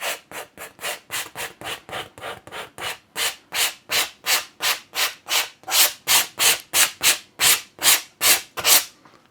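A stiff paintbrush scrubbing excess paint across canvas in a landscape painting, about two dozen loud, rhythmic rasping strokes close by, each a sharp scratchy swish with brief pauses between.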